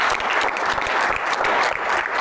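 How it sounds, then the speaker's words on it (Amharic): Loud, steady applause from a game-show audience celebrating two winners, dense clapping filling the whole stretch without letting up. "ለሁለቱ አጨብጭቡላቸው"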